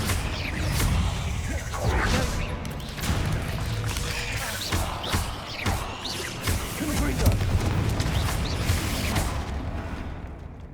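Confringo blast spells explode repeatedly in the Hogwarts Legacy video game, with heavy thuds, crashes and whooshing bursts following one another for about ten seconds amid battle noise, with a voice mixed in.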